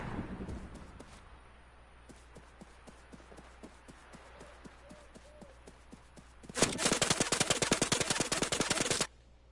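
Scoped assault rifle firing in Fortnite, scattered single shots and footsteps at first, then a loud rapid burst of automatic fire lasting a few seconds before cutting off.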